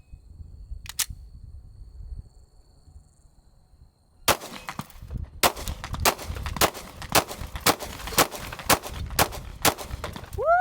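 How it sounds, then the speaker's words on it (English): Glock pistol firing a 32-round magazine at a truck outdoors, a quiet lead-in followed by a rapid series of about a dozen sharp, loud shots in a steady rhythm. "We're gonna end with a 32 round Glock mag."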